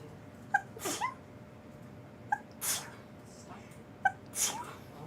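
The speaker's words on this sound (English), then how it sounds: "I need to sneeze" A woman sneezes three times in a row, each a short sharp intake followed by an explosive burst, close and fairly quiet, spaced about two seconds apart.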